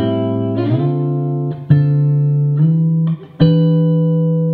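An electric guitar slides between minor seventh chord shapes, each sustained chord gliding up into the next in a few distinct moves with brief pick scrapes, played alone and close.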